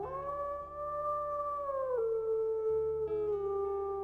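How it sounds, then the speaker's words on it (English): A wolf in the video game WolfQuest howls over a carcass, one long sustained wavering howl with pitch shifts, heard close and alone with no talking. "And howl to mark the carcass."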